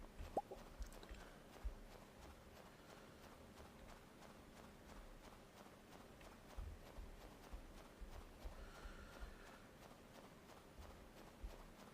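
Steady rhythmic hoofbeats clip-clop throughout at moderate volume, a trotting horse in the video game Stardew Valley, with faint background ambience and no talking.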